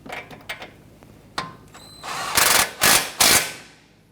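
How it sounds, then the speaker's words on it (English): A 17mm socket on a ratchet tightening a ball joint nut on a 2017-2020 Hyundai Elantra steering rack, with light clicks and taps followed by three loud bursts of ratcheting, close up and without talk. "Using a 17mm socket, I'm going to go ahead and tighten down the ball joint nut here."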